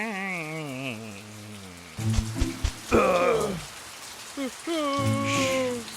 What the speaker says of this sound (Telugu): వర్షం చాలా వేగంగా పడుతుంది.